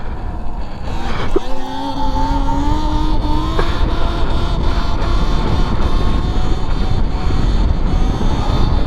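Talaria XXX electric dirt bike lifting into a wheelie on a ride, its motor rising in a whine over constant heavy wind noise, then easing back.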